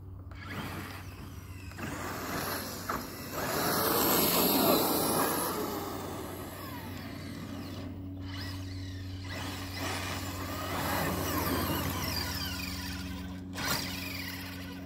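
A Traxxas X-Maxx RC truck runs on storage batteries with a continuous whining motor hiss that swells and fades as it drives. Steady electric drone and gear noise, no talk.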